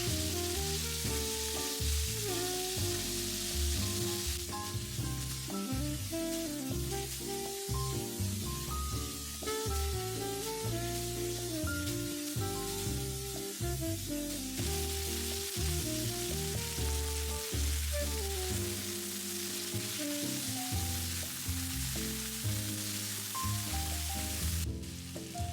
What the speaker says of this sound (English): Add the marinated beef and saute for about 3 minutes.